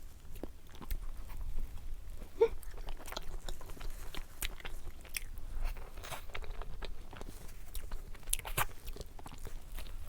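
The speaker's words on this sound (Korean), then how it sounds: "먹을게요." Snacks such as donuts and convenience-store treats being bitten and chewed up close, with crisp crunches and wet chewing sounds repeating steadily and no talking.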